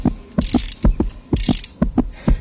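A socket wrench ratchets on the head bolts of a 2003 Honda Accord V6 during a restoration. It gives a close, loud run of rhythmic clicking strokes, with two bursts of bright, fast pawl chatter between steadier clicks.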